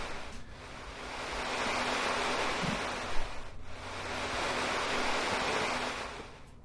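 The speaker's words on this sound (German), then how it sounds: "Also das ist, wie schon gesagt, euer zusätzlicher Wind." Added wind sound effect from the FSRealistic add-on for Microsoft Flight Simulator: steady broadband rushing air, loud and continuous with gentle swells, heard alone without speech.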